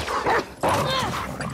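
A dog yips and barks in the video game The Last of Us Part II, two short excited bursts with game noise behind and a player's voice talking over it.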